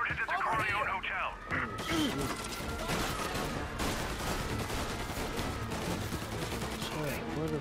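Rapid bursts of gunfire crackle through the clip in Mafia: Definitive Edition along with shouting voices, then settle into a dense, noisy backdrop of continued shots.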